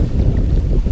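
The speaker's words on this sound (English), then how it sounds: "the wind's on the starboard quarter, so we're in a kind of a broad reach" Loud, steady wind roars across the microphone on a sailboat at sea in a 15-18 knot trade wind, sailing a broad reach from Sint Maarten, with a dense low rumble throughout and no speech.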